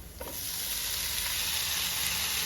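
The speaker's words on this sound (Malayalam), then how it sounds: "ഇനി നമുക്ക് നന്നായിട്ട് അത് ഇളക്കി കൂട്ടി ചേർത്തെടുക്കാം" Boiled elephant foot yam is stirred into a hot pan of cooked spices, giving a steady, fairly loud sizzle with a faint scrape of the spoon at the start.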